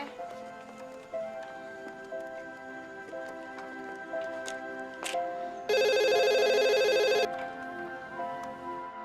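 A mobile phone rings during an outgoing call: a single loud, steady electronic ringing burst of about a second and a half sounds mid-clip over a quiet background hum, with no talking.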